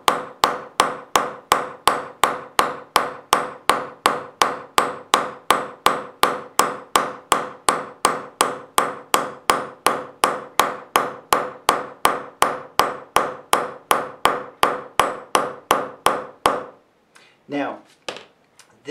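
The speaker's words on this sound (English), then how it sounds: "So watch how I hit it." Rapid, evenly spaced metallic hammer blows ring out on copper sheet during foldforming, dozens in a row, then stop and a voice speaks.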